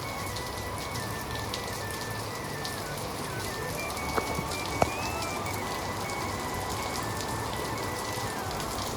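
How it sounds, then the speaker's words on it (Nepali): Heavy rain pours down steadily in a Nepali hill village, a dense, continuous hiss of drops pattering on surfaces, with a faint tonal hum running underneath. "तपाईँले अब हेर्नु है त कसरी पानी पर्छ कसरी पर्छ हेर्नु है त"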